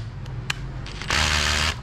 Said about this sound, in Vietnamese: Mình thử búa cho bạn nè